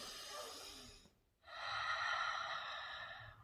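Two slow, deep breaths are drawn in close to the ear, each a soft airy rush lasting about a second, separated by a short pause, with no talking.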